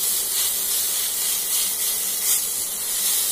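Grated coconut fries briefly in hot oil for an egg curry, giving a steady bright hiss and sizzle that stays even and close throughout, with no talk over it.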